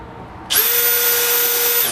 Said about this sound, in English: And looking down and trying to place this drill into the center.